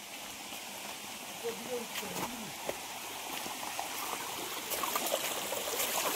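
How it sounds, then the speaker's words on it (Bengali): A small forest waterfall and stream near Ghatshila, Jharkhand, gives a continuous, close rush of flowing water that swells slightly toward the end, with faint voices mixed in. "হ্যাঁ, এই হচ্ছে ঝর্ণা।"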